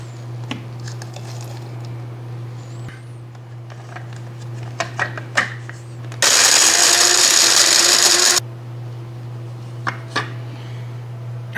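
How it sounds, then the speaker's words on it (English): An electric coffee grinder set to medium grind chews through roasted chicory roots in one loud whirring burst of about two seconds, set against a steady low hum and scattered clicks and handling noises. "on my grinder, I'm going to set it for medium grind, 4 cups, since we have so little"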